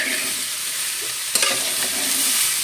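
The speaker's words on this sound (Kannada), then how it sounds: "ಇಲ್ಲಿ ಹಾಗಲಕಾಯಿ ಫ್ರೈ ಮಾಡ್ತಾ ಇದ್ದೀನಿ." Sliced bitter gourd sizzles steadily in a hot frying pan while it is stirred, with a brief scrape of the utensil against the pan midway.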